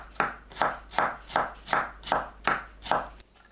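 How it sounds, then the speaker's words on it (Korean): A knife finely julienning carrot on a cutting board gives eight steady, evenly spaced chopping strokes, each a crisp thud with a scraping tail, close and clear with no talk, then stops abruptly. "당근을 곱게 채 썰어줍니다."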